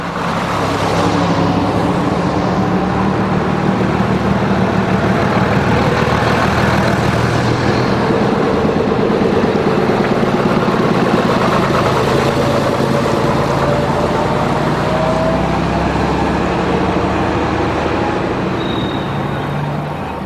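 Several classic Routemaster London buses, including RM822, RML2613 and RM1000, sit with their engines running at North Weald, a loud continuous diesel rumble and drone that swells slightly midway, heard at close range without talk.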